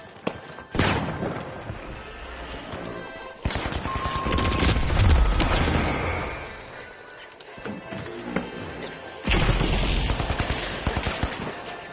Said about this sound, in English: Toss the flashbang!